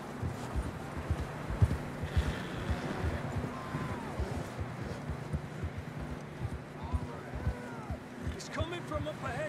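Hooves clip-clop rhythmically as a horse gallops in Red Dead Redemption 2, a steady, fairly close beat with occasional whooshes, while a person talks over it.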